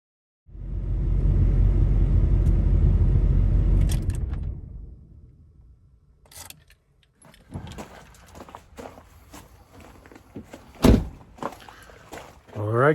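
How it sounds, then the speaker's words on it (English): A truck engine runs loud and low for a few seconds before fading, followed by door thunks, jangling keys and scattered handling noises nearby after a test drive on newly installed brake rotors and calipers. "I just got back from taking it for a test drive"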